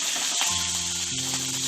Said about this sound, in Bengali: কড়াইতে চিংড়ি মাছটা দিয়ে দেবো।